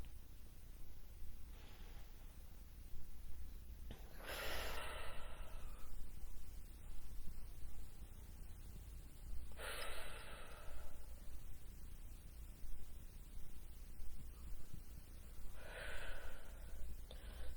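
Deep breaths during a guided meditation session, three slow breathy inhale-exhale swells spaced several seconds apart, close and fairly soft over a low steady background hum, no talking.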